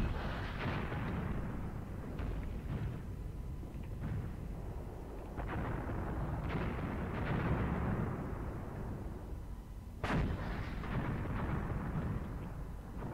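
Mortar fire in the WWII tactics game Graviteam Tactics, Kharkov 1942: a dense rumbling roar of distant explosions and booms rolling on throughout, with one sharper crack near the end.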